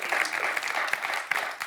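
Studio audience applause for a quiz show contestant, a short burst of brisk, even clapping with no talk.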